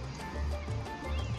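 A baby horse in the Sims 3 game gives a short neigh or two over soft ambient game background, brief and moderately quiet.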